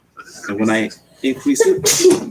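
A single sharp sneeze bursts out near the end of a man's speech during a maths lesson on percentages, loud and close.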